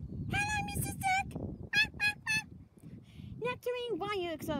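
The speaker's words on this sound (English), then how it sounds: "Here comes the duck!" A duck at a seaside beach gives loud, repeated nasal honks in quick bursts, close by, with a brief pause in the middle and faint background noise beneath.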